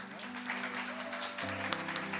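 A church congregation at a Sunday chapel service claps under a sustained keyboard chord, with the applause holding at a moderate level throughout.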